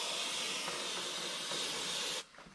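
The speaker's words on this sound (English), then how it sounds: "I'm still gonna spray this down." A steady, loud hiss of aerosol cleaner sprayed onto a car engine part runs continuously for about two seconds, then cuts off abruptly into quiet.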